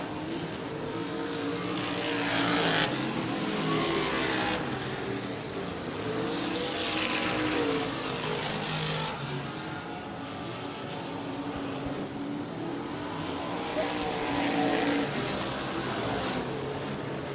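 Texas winged modified race cars roar around the Big O Speedway oval in a feature race, with loud engines swelling and fading repeatedly as the cars pass, dense and continuous throughout.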